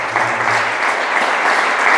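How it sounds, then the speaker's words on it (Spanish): A church congregation breaks into loud, sustained applause during a sermon, with thick continuous clapping and a faint low hum underneath. "Ojalá que le den un aplauso"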